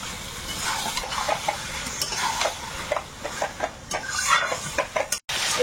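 Chicken meat being stirred in a pan over a coal fire, a steady scraping stir with sizzling and frying crackle throughout, close and fairly loud, briefly cut off near the end.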